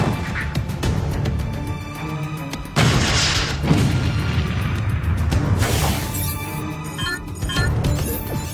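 A bazooka blast in a World War II combat scene, with a sudden loud boom and a crashing burst of debris, surrounded by further heavy impacts and clattering rumble, no voices.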